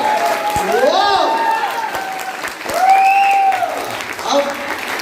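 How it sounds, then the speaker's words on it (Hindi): An audience at a live event claps loudly and steadily in a sustained burst of applause, while a voice speaks through a microphone over the clapping. "दिखा दीजिए एक बार, जोर ताली बजा के।"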